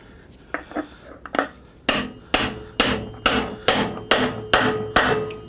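A new bushing is hammered into the front wheel of a John Deere E130 riding mower. A few light taps lead into a run of about eight loud, evenly spaced metallic blows, close and alone.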